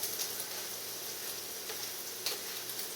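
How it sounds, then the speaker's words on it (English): Sweet potato sautéing with bacon in a pan over medium-high heat gives a steady close sizzle and crackle throughout, with a few sharper pops along the way. "Alright, this is sauteing at a kind of a little bit of above medium, between medium and high heat."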